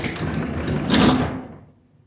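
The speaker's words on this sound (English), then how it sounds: "when I go to lift the door here" A garage door is lifted by hand after being disengaged from its opener, giving one short scraping, rolling rumble that swells and then fades out.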